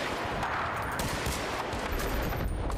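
M1 Garand rifle fire in Battlefield Bad Company 2 Vietnam blends into a thick, continuous roar of overlapping shots and battle noise, loud and steady throughout.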